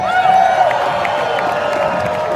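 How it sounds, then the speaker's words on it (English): Dense, steady roar of a large outdoor crowd at a Freedom Convoy rally in Victoria, BC, with cheering, whoops and scattered clapping throughout, loud and continuous with a high whistle-like tone near the start. "Wow, look at this crowd."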